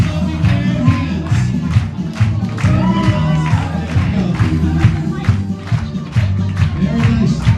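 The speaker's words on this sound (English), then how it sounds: "Everybody's clapping their hands." A crowd aboard a yacht claps along during a hora dance, rhythmic hand claps over loud festive music with a steady beat and cheerful voices mixed in.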